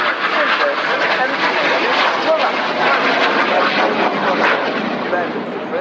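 Frecce Tricolori jet aircraft fly a 360-degree turn at an air show, a loud, continuous roar of jet engines that stays close and steady throughout.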